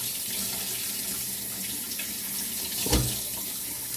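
Sea moss is rinsed under a running kitchen tap, the water hissing softly and steadily with a single brief clunk near the end.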